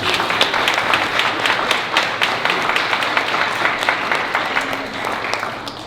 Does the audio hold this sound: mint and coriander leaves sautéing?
no